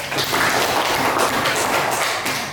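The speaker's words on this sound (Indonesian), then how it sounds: "Tepuk tangan 3 kali" Group of people at a university orientation event clapping in a dense, continuous burst of applause, close and fairly loud, without distinct separate beats.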